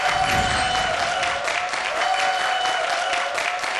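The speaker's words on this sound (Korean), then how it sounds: "수학사랑연구소의 황혜린 소장님을 큰 박수로 모시겠습니다" A lecture hall audience claps in a steady, dense wash of applause to welcome a math researcher to the stage, sustained and fairly loud throughout with no voices over it.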